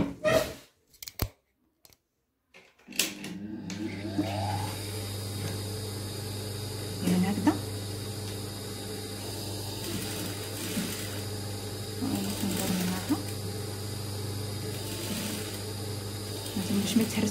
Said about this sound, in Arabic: غادي نخيطوهم دابا.